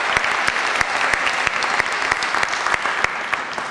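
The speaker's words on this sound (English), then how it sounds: "Give yourself a round of applause." Audience applause at a Maryland Black Caucus luncheon in Prince George's County, steady dense clapping from a crowd with sharp individual claps standing out, loud and continuous throughout.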